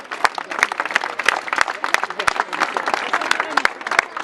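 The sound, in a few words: audience applause for a theatre troupe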